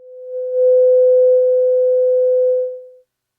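A steady pure sine tone from the oscillator of an AJH Synth ring modulator module, fading in, holding at an even pitch for about two seconds, then fading out, clean and loud with no other sound.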